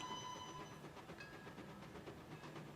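Orient Express train in Trainz Railroad Simulator 2019 on the Sebino Lake route, heard faintly from a distance as a steady rumbling rail noise with a few thin whistle-like tones, no voices.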